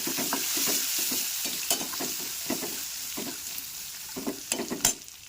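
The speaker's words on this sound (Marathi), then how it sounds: "आपण भिजवलेला वाटाणा आणि काजू. ते टाकून चांगलं परतून घ्यायचं आहे." Soaked peas and cashews being sautéed in a pan, with steady sizzling and repeated scraping stirs of a spoon against the pan, close and moderately loud with no talking.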